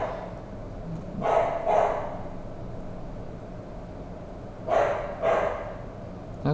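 A dog barks twice in two separated pairs of sharp barks, over a steady background hum indoors.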